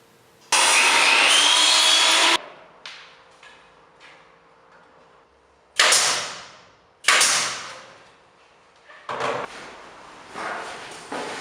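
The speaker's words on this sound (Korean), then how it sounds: "짜투리 나무들로 추가로 선반을 재단해 줍니다" Scrap wood pieces being cut to size for shelves, heard as one long loud cutting burst followed by three shorter, fading cuts with quiet handling noises in between.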